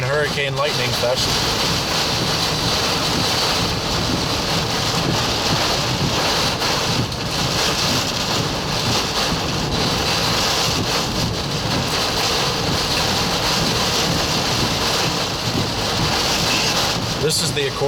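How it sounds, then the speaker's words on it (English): Hurricane Nicholas, a Category 1 storm hitting Matagorda, Texas, roars as a steady, loud wall of wind and rain, buffeting the microphone without pause. Speech is buried somewhere in the din. "Borderline hurricane lightning fest."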